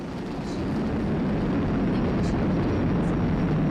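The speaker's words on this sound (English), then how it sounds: "Flying crew on board Dragon and Falcon 9, and look at them go." SpaceX Falcon 9 rocket carrying a crewed Dragon capsule climbing about thirty seconds into launch, a loud, steady, broadband roar that holds constant throughout with no breaks.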